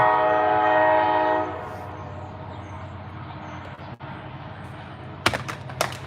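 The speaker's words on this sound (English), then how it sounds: "Sorry about the train." A freight train passes close by, its horn blaring loudly at first before the rumble of rolling cars continues steadily, with a few sharp clanks near the end.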